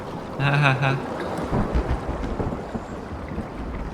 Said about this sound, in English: Why do I hear lightning?